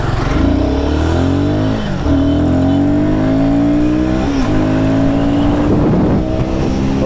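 Royal Enfield Guerrilla 450 motorcycle accelerating hard up through the gears, a loud, close engine note that climbs in pitch, drops at each shift and climbs again.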